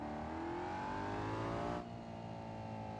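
Supercar engine note from BeamNG.drive gameplay, a steady close droning whir with rising harmonics as the car accelerates, then a sudden drop in pitch and level partway through like a gear change or lift-off, continuing at a lower hum; no talk.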